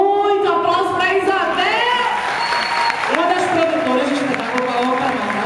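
Clapping from a theater audience at a live show in Recife runs under a voice talking through most of the moment, the applause moderate and steady behind her.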